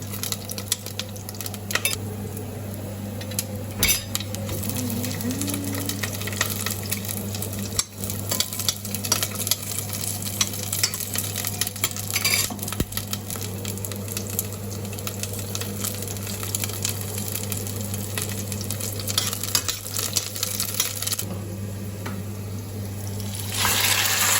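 Chicken tinola soup is stirred in a pot with continuous clinking and scraping of a ladle over a bubbling, simmering broth and a low steady hum in the background.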